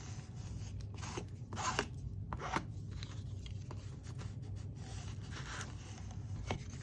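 Scissors trim excess paper from the spine of a junk journal built from a Little Golden Book, giving a run of soft close snips and crisp paper rustles over a steady low hum, with no talking.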